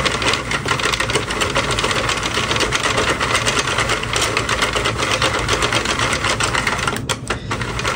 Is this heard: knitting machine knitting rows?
yes